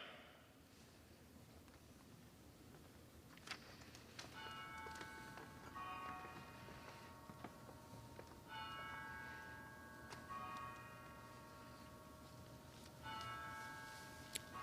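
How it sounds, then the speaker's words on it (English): Church bells ring repeatedly from a distance over a city during a War of the Worlds radio drama evacuation alarm, their tolling peals recurring in steady clusters above a low background rumble. "Those bells you hear, they're ringing to warn the people to evacuate the city as the Martians approach."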